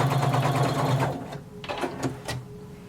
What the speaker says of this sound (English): starting at the top of the back, you're going to sew all the way through the crotch until you get to the other side